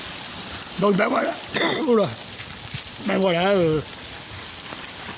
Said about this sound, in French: Donc l'Espagne, vous voyez, il pleut, il mouille.